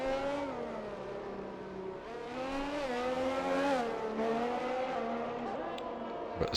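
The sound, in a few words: F1 race car on track in racing video game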